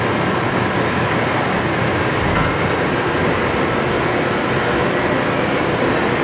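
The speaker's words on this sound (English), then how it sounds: "Very quiet machine, very smooth machine." A Kingston HD 26x120 machine runs with a loud, even mechanical hum and whir that holds steady without change throughout, with no talk.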